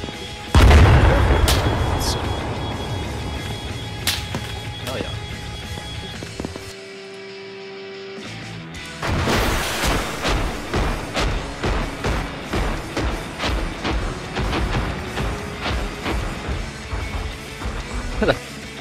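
A Javelin missile launch and blast in a military shooter game: a loud booming impact at the start, then a quiet lull with a low tone, followed by repeated thuds and rumbling explosions and gunfire-like bangs.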